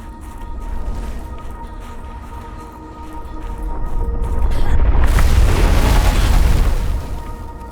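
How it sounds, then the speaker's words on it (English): Thumper device in the underwater game Subnautica lets out a deep, rumbling boom that swells gradually over several seconds and then tapers, preceded by quieter low ambient noise, with no voices. "it takes that long before the thumper starts thumping"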